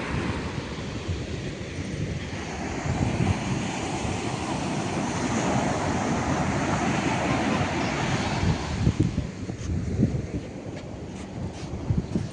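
Ocean waves at the seashore on an evening outing, a continuous broad roar of surf mixed with heavy wind buffeting the microphone, steady throughout with no voices.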